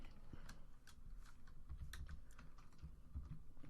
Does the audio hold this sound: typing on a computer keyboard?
yes